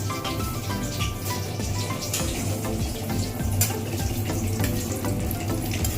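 Dried red chilies sizzle in tempering oil for a paneer dish, a dense, steady, close hiss that runs unbroken throughout at an even loudness.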